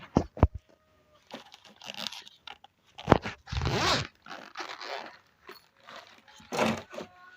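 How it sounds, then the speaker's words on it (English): Zipper being pulled open around a digital clamp meter case, a few short rasping strokes with pauses and handling noises, close and loud. "So just gonna zip it open."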